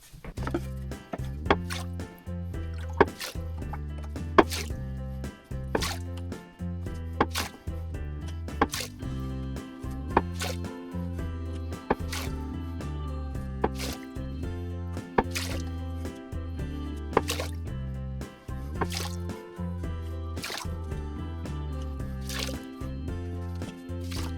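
Water drips and splashes into a toilet bowl as a sponge is squeezed during a float valve repair, a long irregular series of distinct drops and small splats, fairly close and quiet, with no talk.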